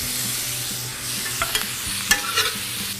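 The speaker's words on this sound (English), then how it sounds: "just a light stir fry on those, about 60 to 90 seconds" Vegetables for shrimp chow mein being lightly stir-fried in a hot pan, a steady sizzle with scattered spatula scrapes and clicks against the pan, fairly close.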